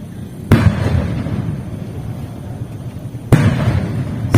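Homemade cannons fired at night during Hari Raya celebrations in Kampung Talang: two loud, sharp blasts about three seconds apart, each followed by a rumbling tail over a steady low roar of continuing background bangs.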